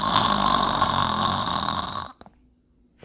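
Loud, rasping snoring fills the first two seconds as one long continuous snore, then stops abruptly and leaves near silence with a couple of faint clicks.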